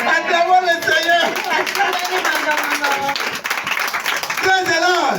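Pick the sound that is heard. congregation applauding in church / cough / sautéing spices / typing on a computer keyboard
congregation applauding in church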